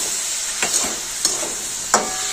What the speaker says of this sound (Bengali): পোস্তটাকে একটুখানি ভালো করে কষিয়ে নেব